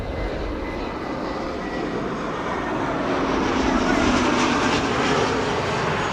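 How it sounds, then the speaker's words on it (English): An ITA Airways A320neo arrives at Amsterdam Schiphol from Rome with a sustained jet engine roar that builds gradually toward a louder stretch near the end and carries no talk. "This is Ita, a beautiful shade of blue, flight 108, arriving from Rome. It's an A320neo"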